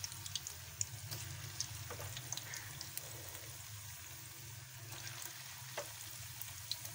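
Potato finger chips made with semolina fry in hot oil over a normal flame, a faint steady bubbling sizzle with small crackles and pops, with no voices.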